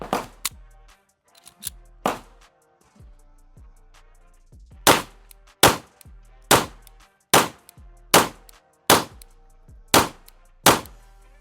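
A PSA Dagger full-size pistol fires at steel targets, first a few scattered shots, then a steady run of about eight sharp, loud reports at roughly one-second intervals, each followed by a short ringing decay.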